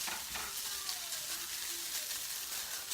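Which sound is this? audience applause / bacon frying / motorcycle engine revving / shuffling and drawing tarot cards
bacon frying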